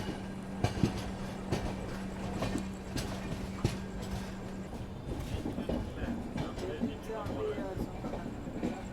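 A train rolls along the tracks toward Visakhapatnam, passing nearby as seen from a Grand Trunk Express journey, with a steady rumble and rhythmic clacking over rail joints, and voices talking faintly in the background.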